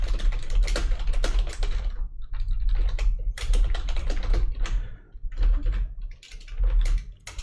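Rapid clacking on a computer keyboard in bursts of keystrokes with brief pauses between runs, close and crisp, no talking.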